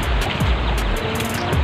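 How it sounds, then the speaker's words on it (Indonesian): Surf breaks along a beach shore, a continuous close roar of waves washing in, loud and unbroken, with no voices. "di pinggiran pantai teman-teman"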